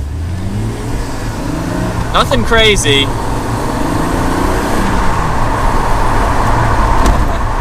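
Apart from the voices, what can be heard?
1989 BMW Z1 pulling away from a stop sign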